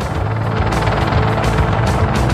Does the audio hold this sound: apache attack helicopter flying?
yes